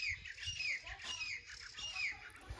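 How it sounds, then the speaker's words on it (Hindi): Birds chirp and squawk around a farm in the morning, with shrill calls scattered steadily over a low outdoor rumble and no speech. "और भाई चिड़िया आसपास बोल रही है।"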